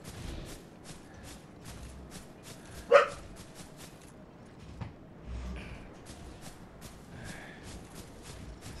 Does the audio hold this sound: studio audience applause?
no